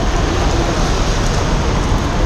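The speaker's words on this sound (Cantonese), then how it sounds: "不過今日落大雨喎" Steady heavy rain pours down during an Easter holiday fishing trip, waiting to board a boat; a dense, continuous broadband wash with low rumble, loud and unbroken throughout, no voices.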